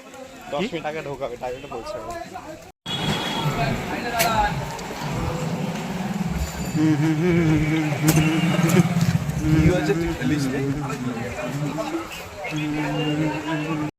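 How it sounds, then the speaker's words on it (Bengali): Auto-rickshaw crawling through a heavy traffic jam near Barasat, its engine droning steadily under nearby talking voices, with sharp street noises cutting in. "আমরা অটোতে উঠে গেছি রাস্তা কি জ্যাম পুরো একদম পুরো রাস্তা ভর্তি জ্যাম"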